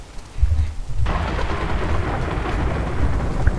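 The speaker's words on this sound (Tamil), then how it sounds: "ஓ இடி சத்தம் பயங்கரமாக கேட்குதுங்க" Thunder rolls during a rainstorm in The Last of Us video game, a deep rumble swelling after a quiet start and sitting over a steady wash of rain for a few seconds.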